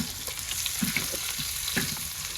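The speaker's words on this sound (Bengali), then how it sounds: "পেঁয়াজটা একটু হালকা ভাজা দিয়ে নেই।" Chopped onions fry lightly in hot oil in a village kitchen pan, a steady close sizzle with soft crackles and faint stirring scrapes, no voices.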